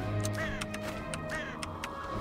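A crow caws twice in the video game The End Is Nigh, two short harsh calls about a second apart over a busy game music bed, with no speech.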